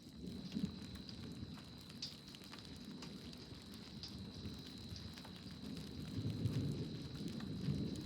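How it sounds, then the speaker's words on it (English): Steady rain hisses throughout while low thunder rumbles underneath in open country outside Corson, South Dakota, growing heavier and louder near the end. "because it's actually raining this time, more lightning"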